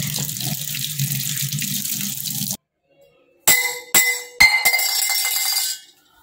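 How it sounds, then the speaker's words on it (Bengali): Dishes are scrubbed and washed under a running kitchen tap: a steady gush of water stops, then glassy clinks and splashes come as the flow resumes and runs on before cutting off. "বাসন আমি মেজে দিচ্ছি"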